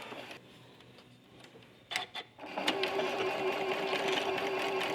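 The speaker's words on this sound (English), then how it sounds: "I'm going to go to my sewing machine. I'm sewing with a 1/4-inch foot that I backstitch at the start and the end." A domestic sewing machine fitted with a 1/4-inch foot stitches quilt pieces in cotton thread, starting after a few soft clicks and two short bursts, then running steadily and close with a continuous whirring hum.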